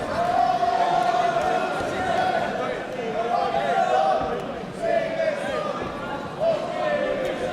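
Boxing arena crowd cheering and chanting for fighter Lewis Ritson, a dense roar with rising, surging shouts at the fight, mixed under close commentary voices.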